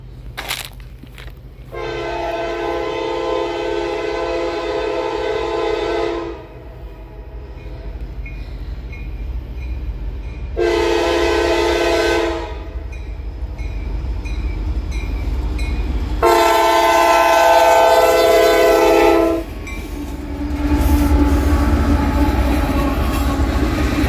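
CSX freight train M524, led by rebuilt CM44AC locomotives including CSX-T 7008, sounds its horn in three long blasts, loud and close over a steady rumble of rolling rail cars heading north toward Montgomery.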